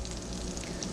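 Onions warming up in butter in a pan, after a New York strip steak was cooked there, give a brief, quiet, steady sizzle.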